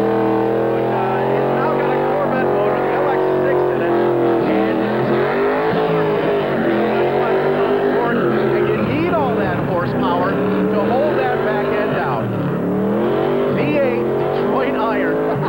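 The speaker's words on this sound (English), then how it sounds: "we're going to fire up about 400 horsepower coming out of Detroit" A 400-horsepower Detroit V8 in a Camaro-based drift car rumbles and revs loudly and continuously close by, with a voice talking over the engine noise.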